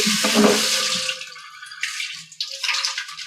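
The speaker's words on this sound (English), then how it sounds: "Go ahead and wash my hands." Water runs from a kitchen tap into the sink during handwashing, a close splashing rush that tapers off into lighter trickles and drips.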